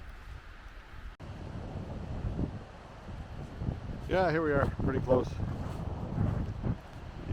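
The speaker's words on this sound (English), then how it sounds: "You can hear the wind and waves out here now." Blustery wind and ocean waves at the beach, a rough windy rush with surf underneath, while a person talks briefly over it.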